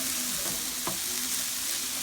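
Italian sausage with caramelized onions, carrots, zucchini and garlic sizzles steadily in a frying pan, with a brief scraping stir partway through the close, continuous frying.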